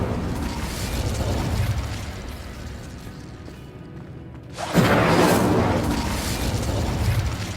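An Incendio fire spell from the Hogwarts Legacy video game ignites with a loud whooshing roar after a brief lull, and the broad fiery rush sustains and slowly fades. No one speaks over it.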